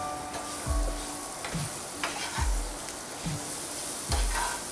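Mango pieces sautéing with spices in a pan, a constant hiss of sizzling broken by roughly five regular stirring knocks and scrapes of a spoon against the pan, close and clear, no talking.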